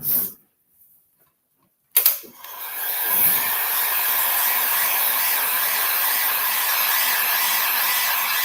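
A hair dryer drying a painted Santa craft: a few clicks, a moment of silence, then a loud switch-on and a steady, close, continuous blowing whoosh to the end.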